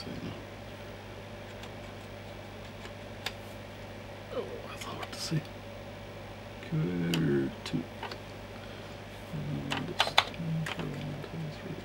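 Keys are tapped on a restored Commodore Amiga 500 Plus computer keyboard, with sparse, light clicks close by over a steady hum and quiet talk.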